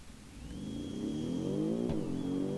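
A Phompsonby sports car with a tri-exhaust in the BeamNG driving game, its engine droning and rising steadily in pitch as it accelerates, moderately loud and with no one speaking.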